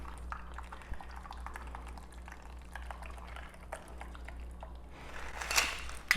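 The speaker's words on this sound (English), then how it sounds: "Go ahead and pour everything out." A green matcha martini pours from a cocktail shaker into a cup as a steady, soft liquid trickle, swelling into a brief louder splash near the end. No one speaks.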